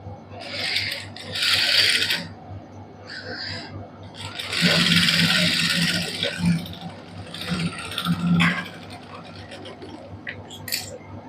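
Several short bursts of loose tacking stitches run on a sewing machine while a white lace design is made, with rasping mechanical whirs between pauses and faint background hum.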